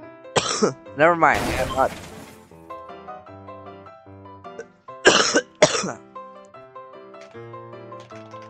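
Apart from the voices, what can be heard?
cough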